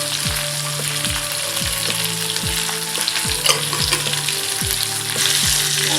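Drumsticks and potatoes fry with green chilies, a loud, even sizzle running throughout with a low rhythmic thumping repeating in the background.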